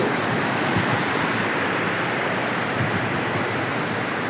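Loud, continuous rush of the Saraswati river flowing at its confluence with the Arjuni in north Gujarat, broad and steady like a fast cascade, close by with no other sounds.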